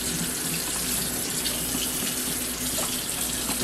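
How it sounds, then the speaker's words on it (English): Water running steadily from a tap into a sink during handwashing, a loud, close, continuous splashing rush with no talking. "first thing you do is wash your hands."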